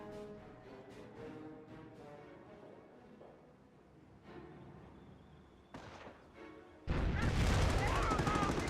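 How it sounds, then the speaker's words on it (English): A .30 cal machine gun in Company of Heroes 1 fires suppressing bursts near the end. It comes after a stretch of quieter distant battle noise, and a voice talks over the game. "30 cal suppressing down the Volks"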